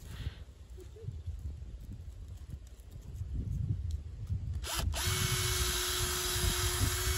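A power drill bores into the wood of a tree affected by dieback, a steady motor whine that rises and grows louder partway through, running continuously outdoors.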